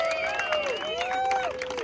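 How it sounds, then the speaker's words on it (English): A crowd at a Polynesian imu feast applauds the chefs. Whoops and high, sliding calls ride over a bed of clapping and chatter in a brief, lively burst. "Please give a big round of applause once again for our hard-working chefs"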